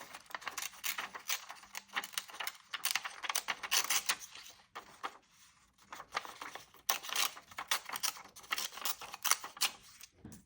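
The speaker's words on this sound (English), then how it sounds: "what I'm gonna do is just tear it up a bit" Regular paper is torn up by hand in a series of quick, crisp rips and rustles, close and irregular, with brief pauses between tears and no speech.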